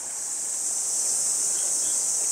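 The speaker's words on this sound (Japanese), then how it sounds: "あれは虫だな。" Steady high insect chirring, likely crickets, fills an outdoor park, a continuous faint drone running alone without talk.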